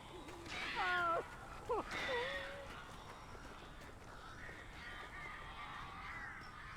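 Crows caw repeatedly in the video game Alan Wake, a cluster of harsh calls close by in the first few seconds, then fading into a quiet ambient hum.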